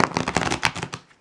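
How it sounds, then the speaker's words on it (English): Tarot of Prague card deck, with the major arcana removed, being shuffled by hand in a short, close, dense burst of riffling card flutter that tapers off at the end. "here I am shuffling it without the majors"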